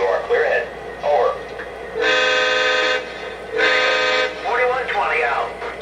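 A model railroad layout running boxcar trains sounds two long, loud horn blasts one after the other, with voices talking before, between and after them.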